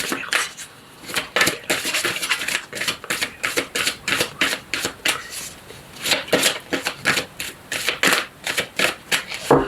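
Oracle cards being shuffled by hand to draw a single card, a dense run of crisp riffling flutters in quick bursts, close and fairly loud, with no talking.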